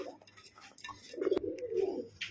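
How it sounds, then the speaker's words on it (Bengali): Sherazi pigeons coo in a low, rolling burr close by, a soft throaty call swelling over the last second amid faint background rustle. "আচ্ছা এগুলো তো সিরাজি রানিং পেয়ার এটা?"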